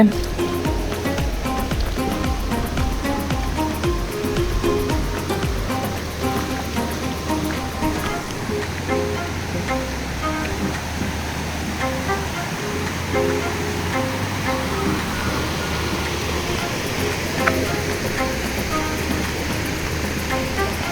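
Cold river water rushes in a continuous broadband wash as people cross a river on the way to Anjani Kund near Saputara, steady and close throughout, with faint voices underneath.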